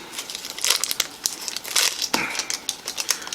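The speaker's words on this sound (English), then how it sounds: "Let's unwrap it here." Crinkly wrapper crackling and rustling up close as a chocolate truffle is unwrapped, a quick busy burst of crumpling with sharp little crackles and no voices.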